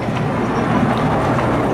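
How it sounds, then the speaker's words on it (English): A miniature railway train at the Pleasurewood Hills amusement park rumbles steadily along its track, heard close up from the rear car as a continuous broadband roll with no talking. "I like coming on the back of the miniature railway."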